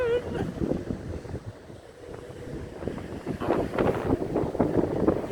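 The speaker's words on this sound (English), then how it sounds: "And this is the beach. The ocean." Wind buffets the microphone at a beach with ocean surf surging underneath, gusty and uneven, with voices talking over it.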